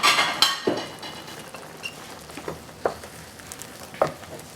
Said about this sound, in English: This has been boiling for a while now.